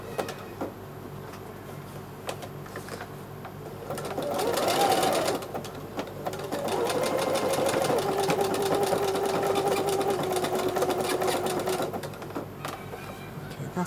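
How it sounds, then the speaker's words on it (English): Sewing machine stitching a neck patch on a garment by free-motion darning, with a steady, rapid mechanical whirr in bursts, a short pause after the first run, then a long, even run of stitching that stops abruptly. "I'm gonna run a stitching like this down"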